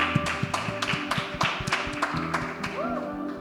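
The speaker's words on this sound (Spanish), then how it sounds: "Dale un aplauso." A church congregation claps in a short, uneven round of applause, individual hand claps distinct and fairly close, with a voice briefly heard.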